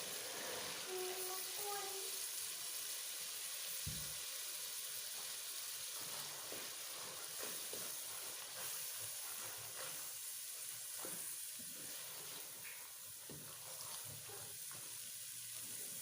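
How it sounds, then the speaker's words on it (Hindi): Green chickpeas roasting in a hot pan: a soft, steady sizzle with faint stirring scrapes and clinks, fairly quiet, a brief low bump near the start and no talk. "अभी हम चने डाल देते हैं और चनों को भी भून लेते हैं"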